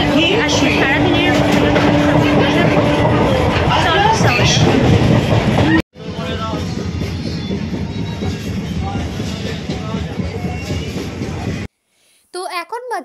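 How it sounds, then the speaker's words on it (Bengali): Loud continuous rumble and clatter inside a moving train, with rhythmic rail noise, a brief cut, then more steady rolling noise and faint chirping at the end. "আমি আছি ট্রেনের মধ্যে যার কারণে এত বেশি নয়েজ আসছে"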